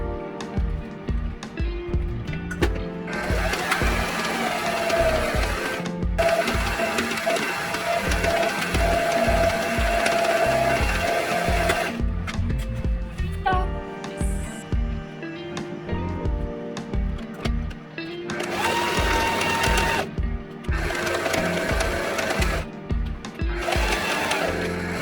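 A home sewing machine stitches a thrifted autumn garment in loud, rapid mechanical runs. The runs stop and start with short pauses and no voices.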